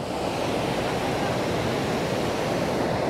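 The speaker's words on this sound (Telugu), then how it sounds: "వాటర్ ఎక్కడో కోణం నుంచి పడతానే ఉంది" Hogenakkal waterfall on the Karnataka–Tamil Nadu border gives a continuous, even roar of falling water, broad and steady with no pauses and no voices.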